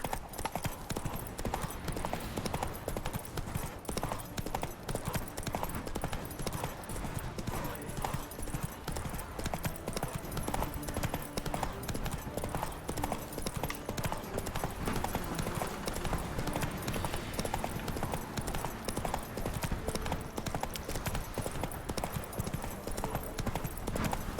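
Roach the horse gallops in The Witcher 3, a dense, rapid and continuous clip-clop of hooves running throughout, loud and close, with faint voices in the background.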